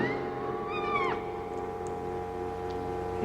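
A small kitten gives a thin, rising-and-falling meow, then a few fainter mews, heard close over a steady low room hum with no talking.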